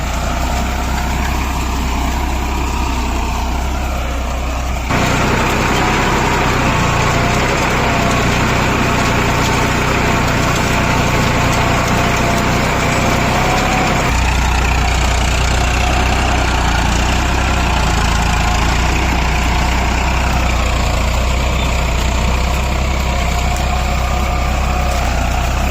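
Tractor engine running steadily as the tractor moves forward, a loud continuous diesel drone with shifts in pitch and load as the position lever is raised and lowered repeatedly; no voices.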